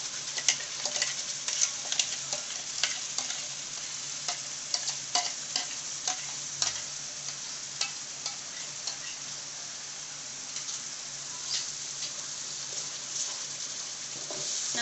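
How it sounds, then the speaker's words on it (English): Paneer butter masala paste made with ground vegetables is sautéed in a pan, giving a close, constant sizzle. Frequent light ticks and scrapes from stirring run through it, with no speech. "We have to saute this mixture till it leaves oil."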